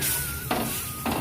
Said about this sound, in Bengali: পটল ভাজাটা বসিয়েছি।